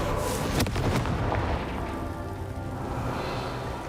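Confringo explosive spell cast in Hogwarts Legacy, bursting in a loud blast with a sharp crack early on, then a rumbling, debris-filled tail that slowly fades.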